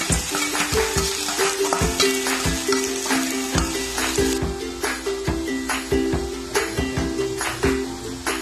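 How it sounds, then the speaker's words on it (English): Mung bean sprouts with sliced taukwa stir-fry in a hot pan, a loud steady sizzle broken by frequent rhythmic scrapes and clacks of the spatula, close by and without talk. "Throw in your mung bean sprout."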